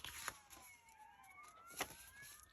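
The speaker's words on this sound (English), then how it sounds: "sirens." Wailing police sirens with sweeping, overlapping tones rise and fall in the distance, layered over steady traffic rumble.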